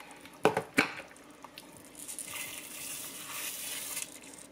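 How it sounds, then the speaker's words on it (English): Dry rice, about 2.5 cups, poured into a pot of boiled chicken, two sharp rattling bursts followed by a softer steady hiss of grains settling, close and fairly quiet, with no talking. "now we're going to add our rice"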